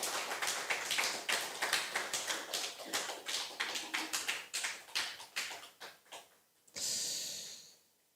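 A Sunday worship congregation at Sungsil Church in Daejeon claps together in a quick, steady rhythm of sharp bursts for several seconds, ending in a brief louder swell of applause.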